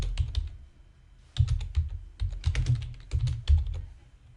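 Keys clatter on a computer keyboard as a project name is typed into Visual Studio, quick bursts of close, crisp taps separated by a short pause, with no talking.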